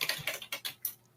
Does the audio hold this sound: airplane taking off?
no